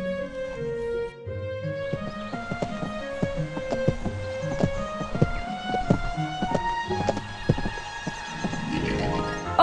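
Horse clip-clopping at a steady walking rhythm with a neigh in Disney Princess: Royal Horse Show (2003), hooves clear and close over a continuous musical background.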